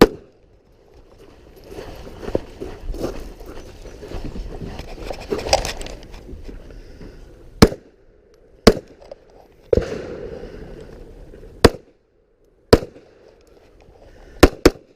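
Handgun shots ring out at an IDPA pistol match stage, with one sharp report after another spaced a second or so apart. Earlier the shots are quicker and partly run together over a busy background.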